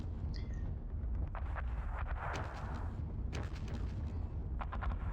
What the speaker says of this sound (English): Sounds like mortar fire.